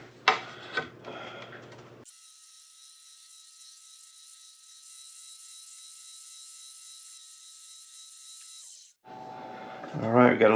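Wen spindle sander taking sharp edges off a piece of wood, a steady high whine running for about seven seconds between brief bursts of talking.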